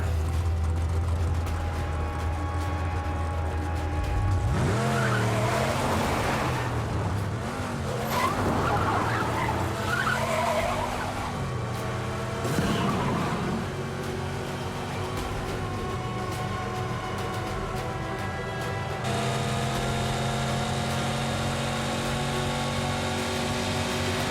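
In the Mad Max video game, a car engine drones while tires squeal and skid for several seconds in the middle, then the engine settles into a steady hum.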